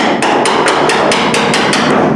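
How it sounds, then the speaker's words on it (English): A hammer strikes a chisel into the floor metal of a Triumph Spitfire during restoration, about nine sharp metallic blows in a quick, steady rhythm, loud and close. "I'm just going to stick the chisel in here to try to pull the metal out a little bit and separate it"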